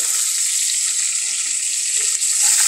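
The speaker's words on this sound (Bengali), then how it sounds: "তো আমি এগুলোকে একটু ভেজে নেব হালকা করে" Sour fruits such as bilimbi with green mango lightly frying in hot oil, a steady loud close sizzle that holds evenly throughout with no talking.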